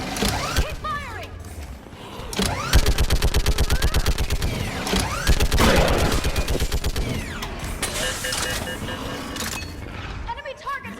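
Gunfire in Mass Effect 3 Legendary Edition: loud, rapid automatic bursts and booming shots fill the scene, overlapping with shouting voices and mechanical clanks.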